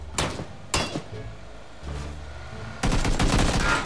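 Gunfire in the video game PUBG: two sharp single shots, then a short muffled burst, followed by a louder, sustained stretch of rapid firing near the end.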